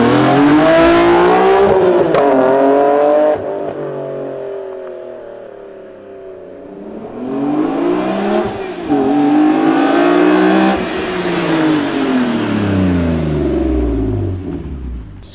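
BMW E46 M3 engine revving hard nearby, rising and falling in pitch through repeated throttle blips and a longer climb, loud and alone with no voices.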